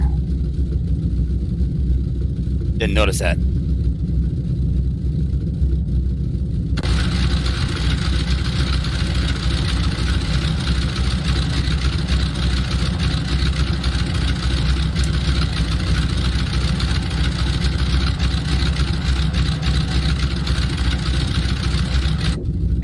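A DHC-2 Beaver's radial engine idles while warming up in X-Plane 11, a constant low rumbling drone throughout; a brief remark is spoken early on, and a broader hiss joins the engine partway through.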